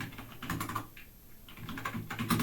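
Computer keyboard keys tapped in quick irregular bursts while Python code is written, close and clear, with a short pause midway and no talking.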